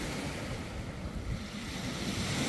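Sea waves wash continuously onto a beach at Anapa on the Black Sea, a steady rushing surf with low rumble and wind noise on the microphone, moderately loud and without voices.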